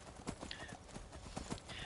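Horse hooves clip-clop in the Skyrim video game, a steady run of sharp, fairly close hoofbeats at a brisk rhythm, with faint background game ambience and no talking.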